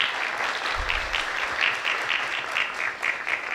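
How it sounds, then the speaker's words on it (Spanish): Steady, moderately loud applause from an audience at a legislative academy event, continuous clapping throughout without talk. "Si pueden, un aplauso por favor para ellos"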